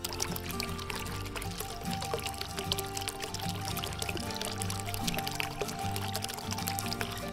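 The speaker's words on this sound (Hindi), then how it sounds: "इसमें एक छोटा सा वाटरफॉल होता है जो मेरे ड्राइंग रूम में रखा हुआ है" A small indoor tabletop waterfall in a drawing room runs with a continuous, fairly loud trickle and splash of falling water, steady throughout and heard alone.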